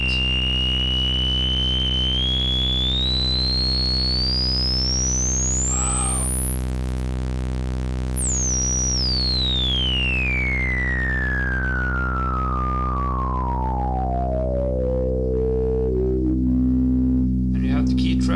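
A resonant self-oscillating filter on a Behringer Neutron synthesizer sweeps steadily upward to a piercing high pitch, then slowly glides back down over a sustained low drone.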